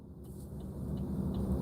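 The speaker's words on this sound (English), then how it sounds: "I know you hear that semi truck and it's scary." A semi truck rolls past on the highway while the listener sits stopped at a red light, a steady loud low rumble that swells slightly as it goes by, with no talking.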